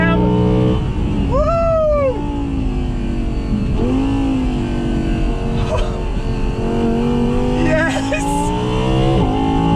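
A 2020 Audi R8 Spyder engine revs hard toward almost 9,000 RPM, its rising harmonics sweeping up and falling back in loud repeated pulls, with excited shouts and talk over the roar.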